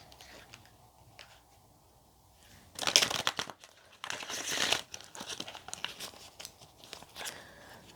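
Tarot cards are handled and shuffled close up: quiet rustling at first, then two loud bursts of papery riffling and crinkling, followed by softer, intermittent card handling.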